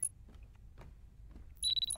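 A phone alarm in the horror game Parasocial starts chiming at the end as a short series of bright, repeated electronic beeps after a quiet stretch with soft ticking.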